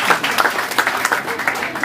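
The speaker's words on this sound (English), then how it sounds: "Give her a round of applause." Audience applause for a panel member at a vegan festival panel in Adelaide: a brief patter of clapping, moderately loud, with light voices mixed in.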